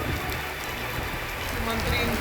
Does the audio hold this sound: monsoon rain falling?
yes